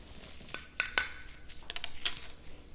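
Spoon clinking and scraping in a bowl while barbecue sauce is mixed with mustard and brown sugar, a few sharp metallic taps spread over a couple of seconds, close and fairly quiet.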